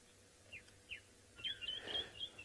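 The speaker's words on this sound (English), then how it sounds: "I think it is the white-throated robin-chat" A white-throated robin-chat sings outdoors on safari, faint and somewhat distant: two short separate chirps, then a longer run of rising, whistled song phrases over quiet background.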